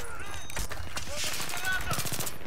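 Rapid automatic gunfire in Battlefield 3, with bursts and single shots cracking close and loud over game noise while someone talks over the action.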